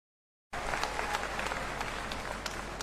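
At a BJP political rally, a crowd breaks into dense, sustained clapping that starts suddenly after half a second of silence and carries on steadily to the end.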